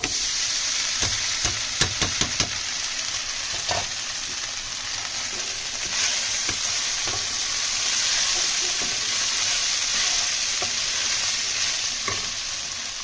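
Sago pearls being stirred into a pan of frying onions for sago khichdi, a steady sizzle running throughout with sharp scraping and clinking stirring strokes clustered near the start and scattered later, close and alone with no talk.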